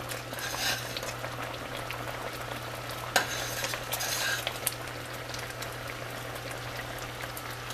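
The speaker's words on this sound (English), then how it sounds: "Stir it up." A spoon stirs a thick rhubarb and berry mixture, giving soft wet squelching and bubbling with one sharp clink against the pot, steady and close over a low background hum.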